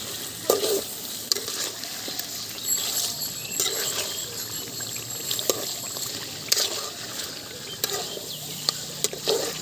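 Chicken curry stirred in a pan: a wet simmering sizzle with intermittent spoon scrapes and clinks against the metal, close up and moderately loud, with no talking.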